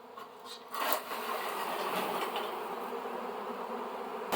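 A swarm of bees sits fanning air, making a dense, continuous close buzzing drone that swells slightly early on and then holds steady.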